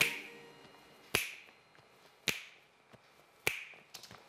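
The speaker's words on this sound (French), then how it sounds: "Joli claquement de doigts, dis donc." Crisp finger snaps on a French TV show set, four sharp, evenly spaced clicks about a second apart, close and clear over a quiet background.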